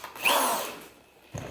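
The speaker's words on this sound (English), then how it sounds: "drill our first hole and screw." A power drill bores a hole through wood while a sled is being built, a loud rising whine for about a second that tapers off, then a short low thump at the end.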